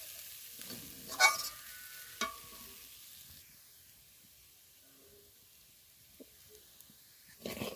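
Flattened rice (chira) being stirred and fried with salt in a pan for a quick chira pulao, with a few sharp scraping stirs early on, a soft sizzle fading into a quiet stretch, then another burst of stirring at the end.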